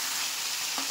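Pangas fish fries in bubbling oil with a steady, hissing sizzle, close and even, with one brief soft knock near the end and no talking.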